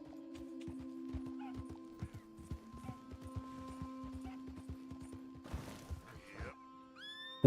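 Horse hooves clip-clop in Red Dead Redemption 2, a steady rhythmic trot of hollow knocks over a low constant hum, ending in a sudden louder crash.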